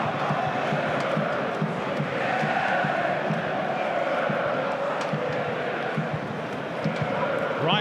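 A packed football stadium crowd at the 2016/17 A-League Grand Final between Sydney FC and Melbourne Victory roars in a steady, continuous wall of noise, with a commentator talking over it.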